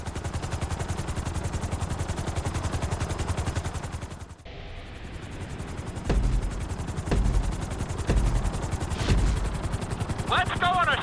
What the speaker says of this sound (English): we're gonna put you in a helicopter for this lesson